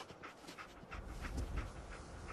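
The dog companion Dogmeat in the video game Fallout 4 pants in quick, breathy, rhythmic bursts, close and steady, over a low rumbling game background.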